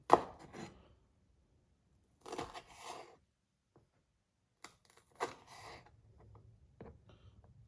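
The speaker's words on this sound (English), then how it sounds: "Don't judge my chopping skills, okay?" Sharp knife chops strike a cutting board in a few separate bursts, each a quick cluster of crisp taps with quiet gaps between.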